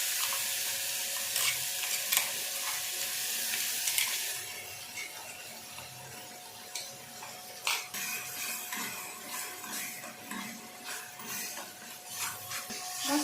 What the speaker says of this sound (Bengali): মশলাগুলোকে এভাবে আমি নেড়ে একটু নাড়াচাড়া ভালোভাবে করে নিতে হবে, যেন মশলার গন্ধগুলো চলে যায়।